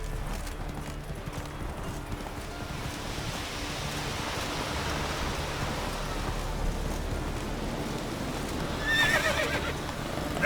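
A horse gallops with rapid hoofbeats in The Witcher 3, wind and rushing noise around it, and a neigh breaks out near the end.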